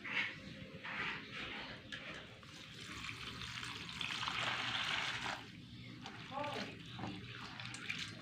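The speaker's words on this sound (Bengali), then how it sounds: "চিড়েটাকে খুব সুন্দর করে ধুয়ে জল ঝরিয়ে এইভাবে রেখে দেব।" Flattened rice (chira) being washed in water and drained for payesh, close running and trickling water with splashy bursts that swell and fade, faint background noise.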